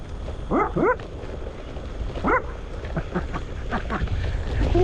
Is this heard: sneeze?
no